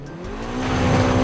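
A car engine in Forza Horizon 5 revs up, its pitch climbing steadily as it accelerates over about a second.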